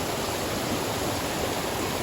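Steady, full rush of water from a clear, cool waterfall and stream in southern Isan, Thailand, filling the whole stretch at an even level with no talk.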